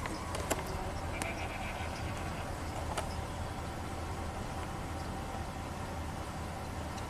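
A 1992 Ford F150 pickup with an idle problem sits idling, its engine giving a steady, even low rumble with a few faint clicks and no talk.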